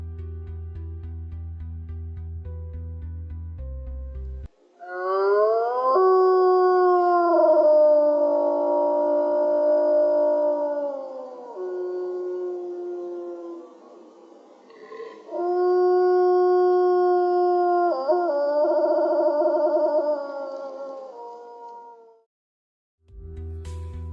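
Wolves howl in long, clear, sustained tones that rise and slowly fall. Several overlapping voices form two extended choruses separated by a short pause, loud and alone.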